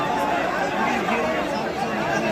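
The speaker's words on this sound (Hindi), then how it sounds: "भीड़ बेकाबू हो रही है।" A large unruly crowd at a tense public scene in Patna, loud continuous chatter and shouting blending into a dense, agitated hubbub throughout.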